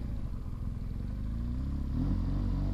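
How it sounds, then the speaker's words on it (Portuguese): Aftermarket loud exhaust on a BMW motorcycle rumbling close by, a deep throaty idle that rises into a brief rev near the end. "e esse escape desmiolado"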